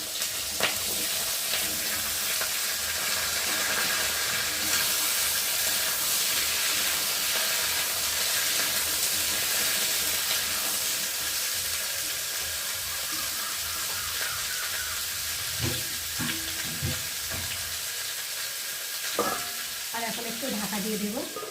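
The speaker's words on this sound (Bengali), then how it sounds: "আলু, কাঁচকলা, আর রয়েছে কটা কাঁচা লঙ্কা, দিয়ে ভালো করে একটু ভেজে নেব।" Papaya, potato, green banana and green chilies frying in hot oil, a steady sizzle with occasional stirring clatter running throughout, fairly close and uninterrupted by talk.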